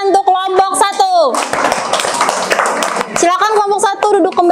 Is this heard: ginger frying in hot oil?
no